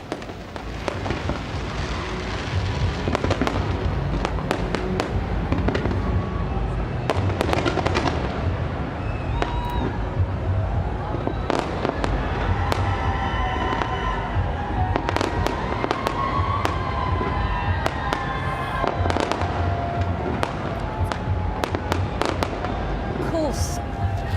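New Year fireworks display in Auckland for 2018, rainbow-themed before a huge crowd: continuous crackling bursts and sharp bangs fill the whole stretch, loud and dense with overlapping explosions and a steady roar of crowd noise beneath.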